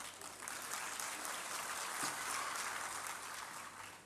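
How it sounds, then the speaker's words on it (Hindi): Audience applause at an event with Rajasthan chief minister Ashok Gehlot breaks out when his name is mentioned, a steady, dense wash of clapping from a large crowd lasting several seconds and fading slightly at the end. "नाम लेते गहलोत साहब क्या तालियां बजी हैं।"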